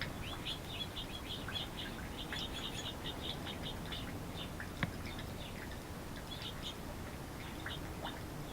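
Backyard birds at garden feeders, including goldfinches and nuthatches, give a steady scatter of small high chirps and tweets at a moderate distance over a soft outdoor hiss.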